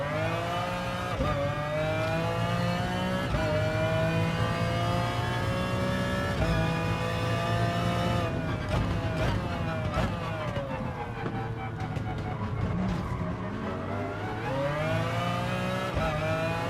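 A race car engine screams around Spa in a racing video game, a loud, sustained whine that climbs in pitch through each gear and drops sharply at the shifts. It runs near and steady for the whole stretch, with no talk.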